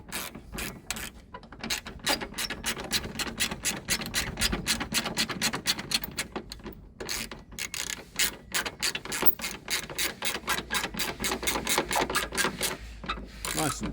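An M6 nut and bolt on a 2023 Ford Ranger bonnet strut is tightened with a ratchet, a long, loud, steady run of rapid clicking pawl strokes close up.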